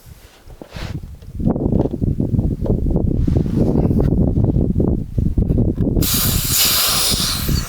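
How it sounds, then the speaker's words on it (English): Range Rover P38 air suspension airline being disconnected, releasing a loud, sustained, close hiss of escaping air that lasts several seconds before tapering into a softer, brighter rush. "There we go, just one little gust of air as we remove it."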